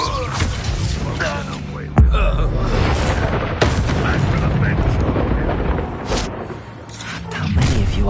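Incendio fire spell from Hogwarts Legacy, loud bursting booms and crackling whooshes in a busy spell-casting battle, with a sharp blast near the start and another a moment later, under a voice calling out.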